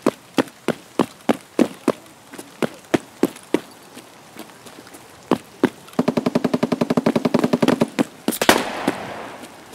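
Gunfire in the Escape from Tarkov video game, sharp evenly spaced single shots that give way to a rapid automatic burst, loud and close, with no talk.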